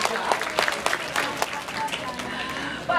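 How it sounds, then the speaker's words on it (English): An audience at the Vancouver Aquarium beluga show claps together in a warm, sustained round of applause that holds steady at moderate loudness, with crowd murmur and a voice mixed in. "I think she deserves a nice big round of applause."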